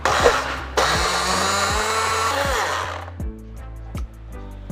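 A kitchen blender whirs loudly as it purees garlic, bird's eye chili and water into sambal, a dense roaring grind for about three seconds, then cuts out to a quieter, intermittent pulsing hum.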